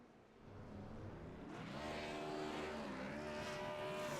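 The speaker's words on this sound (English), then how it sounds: "getting his burnouts in" A race car in a racing video game doing victory burnouts at Iowa: faint idle, then the engine rises into a sustained high revving whine with tire screech layered over it, steady and distant.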